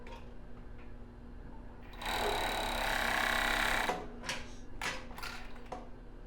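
A sewing machine stitches a lace waistband onto lace thong panties, running in one short, brisk burst of about two seconds between quieter handling sounds and pauses.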